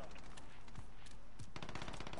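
Gunfire in Call of Duty Modern Warfare on a multiplayer map, a busy stretch of rapid shots and bursts forming a dense, continuous layer of combat noise at moderate level.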